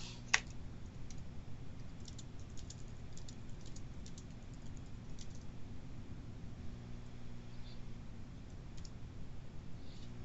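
Faint typing on a computer keyboard during an online math class, with soft irregular key clicks at a distance over a steady background hum and no talking.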